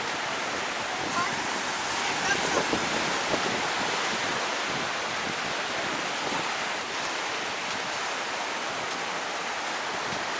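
Steady wind and rolling surf on Clearwater Beach, Florida, on a gusty day, forming a continuous broad roar that blows across the microphone with no clear breaks.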